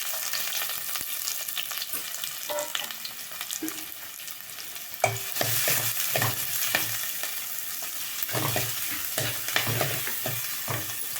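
Onions sautéing in hot oil for a Tamil tomato kulambu, a continuous close sizzle and crackle broken by repeated scraping and clatter of a stirring spoon against the pan, with no talking.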